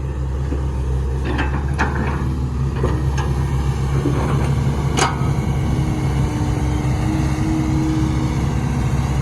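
A car engine runs steadily while driving through mud, a loud continuous low rumble with no talk over it.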